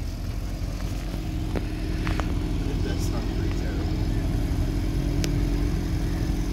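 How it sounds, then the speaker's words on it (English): A BMW M3 and a Porsche 992 sit at a drag strip, their engines a low steady rumble and drone heard from a distance beneath a crowd and people talking nearby. "M3 and a Porsche 992. Why they sound so horrible?"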